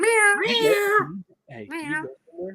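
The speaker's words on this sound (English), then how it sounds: "All right, so there's a cat in my closet now." A cat meows repeatedly in a closet, its calls mixed with and partly masked by close talking from a person.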